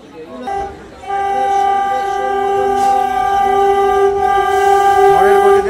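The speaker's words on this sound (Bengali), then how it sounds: "আমাদের গাড়ি হর্ন দিয়ে দিল" A train's horn sounds from the passenger's own stopped memo train, a long steady multi-tone blast lasting several seconds, loud and close, after a brief earlier toot, with faint voices nearby.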